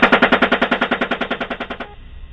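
A helicopter's gun fires in a rapid, steady burst of about twenty close, loud shots in recorded combat footage, then cuts to a lingering rumble with no voices.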